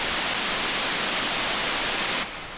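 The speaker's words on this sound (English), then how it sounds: "It's the Serum noise generator, pink noise, level all the way up, and it's just got some reverb on it." Pink noise from a Serum synth noise generator with reverb, a dense, even hiss running loud and steady before cutting off with a brief reverb tail.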